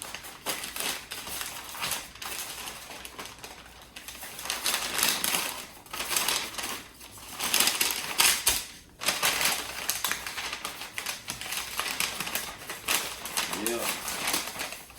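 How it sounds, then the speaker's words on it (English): Butcher paper crinkles and rustles as smoked brisket is wrapped up snug, with loud crumpling bursts and steady handling noise throughout. "Gotta get your butcher paper right."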